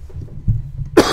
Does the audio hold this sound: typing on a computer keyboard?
no